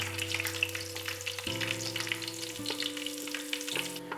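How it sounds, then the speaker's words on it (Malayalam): Shallots sizzle and crackle steadily in hot oil, with dense frying hiss throughout and a low mechanical hum beneath. "ഇതിനകത്തോട്ട് നമുക്ക് ഒരു 2 കൊച്ചുള്ളി അരിഞ്ഞത് ഇട്ട് കൊടുക്കാം."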